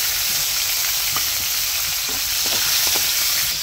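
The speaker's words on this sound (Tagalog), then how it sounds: "So gigisahin ko na yung mga sangkap." Ingredients for fish escabeche sauté in a pan, a steady, close hissing sizzle with occasional stirring scrapes and pops, and no voices.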